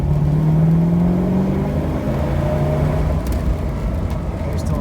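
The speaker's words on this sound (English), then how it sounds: "I'm in second gear. I'm going to give it some gas." A 1969 Shelby GT500 muscle car accelerates in second gear on a road, its engine droning steadily and loudly from inside the car while the pitch rises gradually.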